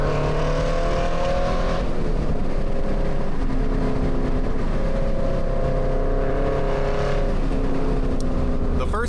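Car fitted with an aftermarket exhaust drives by close and loud, a deep throaty drone climbing and falling through several gear changes with an aggressive, continuous roar.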